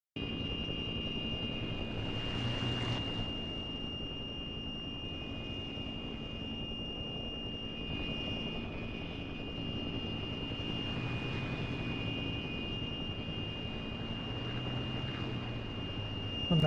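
A Warhawk aircraft in the DCS flight simulator game produces a steady engine drone over a constant high-pitched cockpit tone, with a brief louder swell early on as it passes. It is moderately quiet and has no talking.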